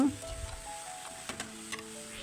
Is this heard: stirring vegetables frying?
yes